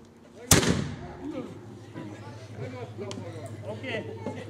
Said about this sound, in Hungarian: ez volt tehát a muskéta lövés